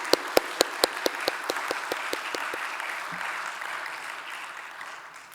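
A church congregation applauding: a few loud distinct claps at first, then a dense wash of clapping that gradually fades.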